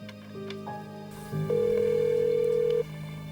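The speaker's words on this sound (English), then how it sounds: "After dialing countless numbers, Sherry located Janice's brother" Telephone line tones at close range: a few brief dialing beeps, then a steady electronic tone holding for over a second before cutting off, over a low constant hum.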